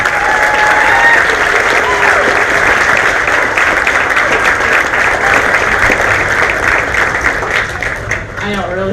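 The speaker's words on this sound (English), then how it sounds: "please give Danielle Davidson a big warm round of applause" Warm audience applause at a Miss Sweet 16 crowning pageant, loud and dense, sustained for the whole stretch and tapering slightly at the end, with some voices and cheers mixed in.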